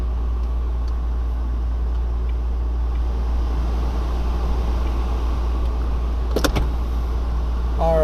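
A 2015 Chevy Volt hums steadily at a low, even level as it drives along the road, a constant engine-and-road drone running unbroken from start to finish, with a brief mechanical whir of a power window or similar near the end.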